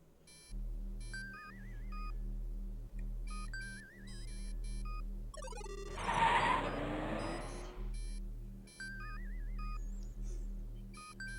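Repeated electronic beeping in the video game Space Quest V, regular bursts of tone cycling through the scene alongside a low droning loop, briefly interrupted by a louder noisy burst in the middle.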